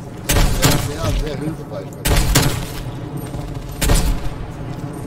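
Rapid bursts of gunfire from Call of Duty: Black Ops Cold War Zombies mode, including a sniper rifle, come in three loud volleys, with someone speaking German briefly between them.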